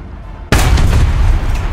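A tank cannon in War Thunder fires with a sudden loud boom, then a sustained roaring rumble that slowly decays.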